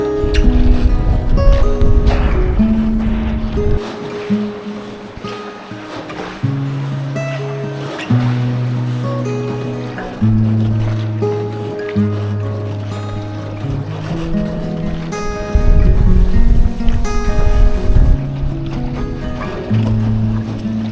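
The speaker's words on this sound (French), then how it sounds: "Mais il y a du vent en fait, il y a tellement de vent." Strong wind buffets during a boat trip, a loud continuous rushing roar over the water with sloshing waves and low droning tones underneath, close and steady throughout with no speech.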